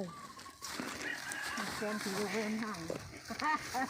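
Chickens cluck intermittently in the background while people talk nearby, the clucks rising in bursts toward the end over a steady outdoor noise.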